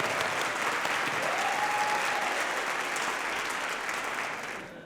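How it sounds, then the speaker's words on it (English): Sustained applause from a large audience at a community college district fall convocation, dense and steady, fading slightly toward the end with no talking over it. "Give a round of applause for Board President John Knight and Trustee Pam Haynes"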